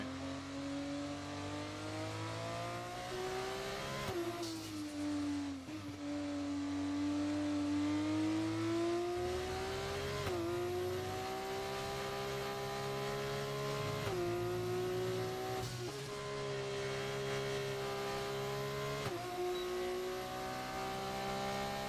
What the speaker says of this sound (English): the F2 cars do sound sick, don't they?